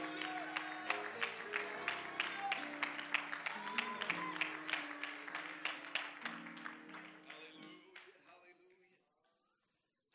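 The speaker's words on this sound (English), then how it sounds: "Can you clap your hands one more time as you're being seated here tonight?" A church congregation claps in steady rhythm alongside music and voices, the claps sharp and regular before fading away into near silence at the end.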